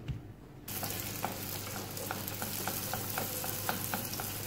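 Dough frying in hot oil, thick flatbread-style dough for a Moroccan pastry made without butter or eggs, giving a steady loud sizzle and crackle after a quiet start.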